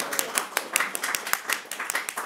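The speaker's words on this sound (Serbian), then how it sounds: "Onda aplauz." A small audience at a book presentation applauds after a priest's speech, with scattered sharp claps coming close together in a brief, moderately loud burst.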